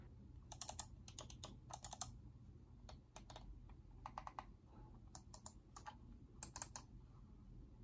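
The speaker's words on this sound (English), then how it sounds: "the clicks, I guess, they're kind of, they're kind of loud, but I'll let you hear it." Sharp, quiet clicking in quick bursts and clusters from Razer Basilisk X HyperSpeed gaming mouse buttons pressed repeatedly, over a low steady background hum.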